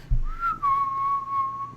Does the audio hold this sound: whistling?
yes